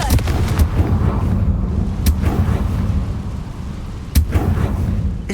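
A Confringo blasting spell explodes in Hogwarts Legacy: several heavy booms land at irregular intervals, loud and close, over a rumbling low-end backdrop.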